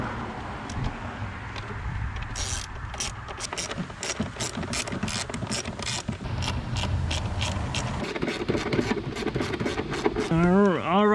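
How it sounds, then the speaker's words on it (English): A ratchet with an 8 mm socket snugs down fuel rail bolts on a Chevy Tahoe, its steady rapid clicking running close and loud over a low background rumble, with a brief whirring sweep near the end. "Now let's get our 8 socket here. Let's get these fuel rails all buttoned down."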